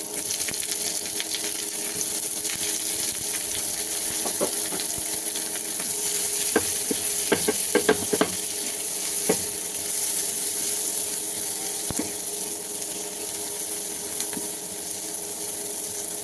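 Chopped onion and capsicum fry in a pan with a steady, even sizzle, joined now and then by sharp clinks of a spatula stirring the vegetables.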